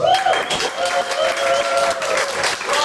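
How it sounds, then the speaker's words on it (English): A crowd applauding steadily, dense clapping that fills the room at close range, with a few voices mixed in. "Give her a round of applause."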